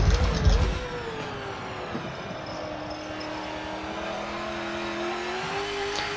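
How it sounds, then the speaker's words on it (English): A V8 Supercar engine in the Forza 7 racing game revs up against the rev limiter with a burst of loud roar at the start. It then settles into a sustained, slowly climbing engine drone with faint tire noise. "Oh, we just clipped the limiter there"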